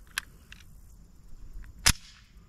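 Two sharp cracks from a Taurus G3C 9mm pistol, one near the start and a louder one just before the two-second mark, with faint softer clicks between them and no talk.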